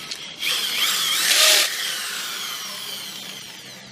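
An electric drill with a 12.5mm concrete bit bores into brick for a damp-proofing treatment, a short high whine rising and grinding loudly for about a second, then fading into a quieter tail.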